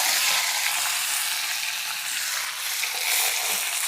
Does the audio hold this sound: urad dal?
yes